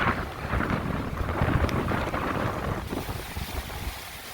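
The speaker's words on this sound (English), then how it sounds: "the wind's definitely picked up here" Strong gusting wind from an approaching tropical storm roars across the microphone on a Dauphin Island beach in uneven surges, with a broad rushing hiss like surf in the background.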